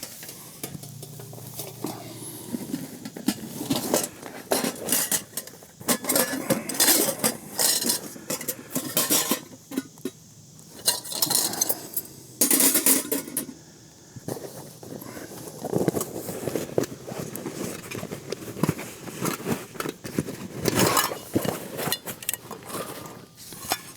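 Metal camping cook-kit skillet and its lid handled outdoors, with repeated clinks, scrapes and rattles coming in bursts at close range and no talking.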